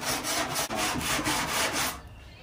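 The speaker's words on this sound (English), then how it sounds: "he's just sanding it down with 80 grit" Body filler (Bondo) on a car panel is sanded by hand with 80 grit sandpaper, a close, steady scratchy rasp in quick back-and-forth strokes that stops near the end.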